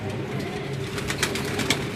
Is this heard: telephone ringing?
no